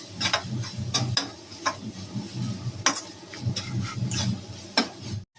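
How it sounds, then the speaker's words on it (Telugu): Paneer fries in a pan with garam masala and pepper powder while a spoon stirs it, giving repeated scraping clicks and knocks over a soft sizzle, close and steady. "కొద్దిగా గరం మసాలా, కొద్దిగా పెప్పర్ పౌడర్, ఇప్పుడు ఇవన్నీ మిక్స్ చేసుకుందామండి ఒకసారి"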